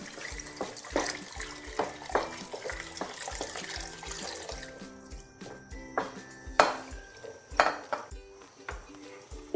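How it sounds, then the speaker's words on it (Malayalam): Three cups of water poured into a pot of sweet corn soup in a home kitchen, with clinking of utensils and a steady running-water wash throughout, punctuated by sharp metallic taps and knocks. "3 കപ്പ് വെള്ളം ഒഴിക്കുന്നുണ്ട്."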